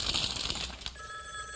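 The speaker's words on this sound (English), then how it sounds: "Just then the phone rang again." A telephone rings in a short trilling burst, moderately loud, followed by a fading high electronic tone, with no voices.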